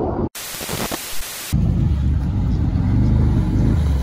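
An off-road race car fitted with a 5.0 Mercedes engine revs loudly at close range, a heavy, throbbing roar that holds steady after a brief, rougher stretch at the start.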